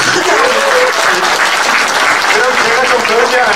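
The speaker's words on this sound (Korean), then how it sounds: "여러분 박수로도 한번 크게" Dense, loud applause fills the hall at a small book concert, sustained throughout, with a voice speaking over the clapping.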